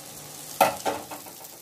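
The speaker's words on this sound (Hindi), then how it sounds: "दूसरी तरफ को भी अच्छे से इसी तरह से फ्राई होने दीजिए" A Mughlai paratha fries in a kadhai with a soft, steady sizzle. Two brief clattering bursts break in partway through, and no voices are heard.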